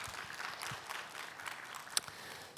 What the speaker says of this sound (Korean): 우리 최선을 다한 우리 찬양팀을 위해서도 우리 한번 격려의 박수 드리겠습니다